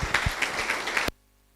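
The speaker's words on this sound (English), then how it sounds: "Please welcome him with a huge round of applause to the stage." An audience at an introduction program applauds to welcome a speaker to the stage, dense clapping that runs steadily and then cuts off abruptly into near silence.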